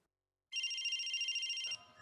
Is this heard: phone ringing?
yes